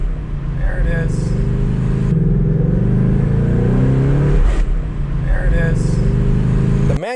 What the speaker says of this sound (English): gear grind that happened immediately after leaving the dealership lot